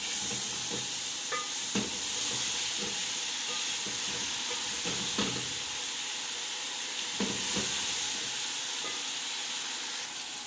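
Chopped onions stirred into okra frying in a pan: constant close sizzle and steamy hiss broken by repeated scraping spatula strokes every second or so, with no voices.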